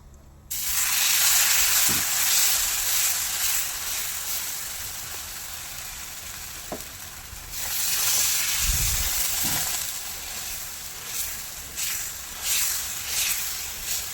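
Rava uttapam batter hisses steadily on an oiled pan, a continuous close sizzle with a few soft knocks, swelling slightly louder midway.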